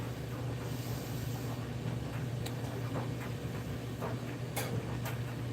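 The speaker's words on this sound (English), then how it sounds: "That's my washer." A home washing machine runs with a steady, dense wash of noise over a low constant hum, broken by a few faint clicks and knocks. It plays on its own with no talk.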